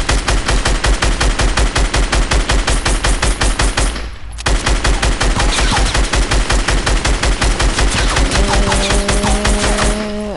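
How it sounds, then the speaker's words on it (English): A SCAR rifle in a video game fires two full magazines as loud, rapid, continuous automatic bursts, with one brief break between mags. "Let me just empty these two scar mags"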